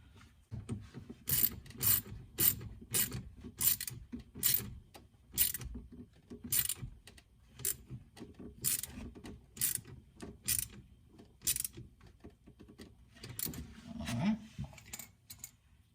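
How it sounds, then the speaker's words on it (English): Ratcheting clicks from a wrench tightening a hose clamp while installing a Raceport blow-off valve on a Corvette, a steady series of sharp close clicks with mechanical rubbing between them. "we're going to get a wrench and just tighten that down a little bit"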